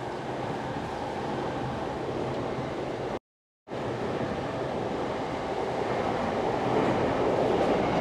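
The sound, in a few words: train passing by on the Yamanote line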